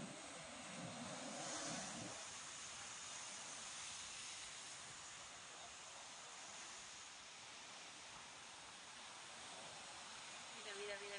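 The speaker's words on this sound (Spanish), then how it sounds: "Mira, las olas están." Sea waves wash steadily onto the shore at San Juan (Donibane), Gipuzkoa, a soft continuous broadband rush that is fairly faint, with a voice heard briefly at the start.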